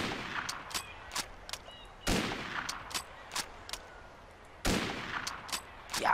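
Sharp gunshots from a sniper rifle in the video game Mafia 1 crack at close range, two heavy booming blasts among several lighter snapping shots, with quiet gaps between them.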